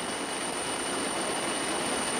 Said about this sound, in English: the mainland's homegrown aircraft C919 took off from Hong Kong International Airport